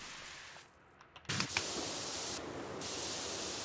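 Pressure washer spraying in the game PowerWash Simulator 2: a quiet lull, then a loud steady hiss of water jet that starts abruptly and runs continuously with a brief dip in brightness midway, no talk.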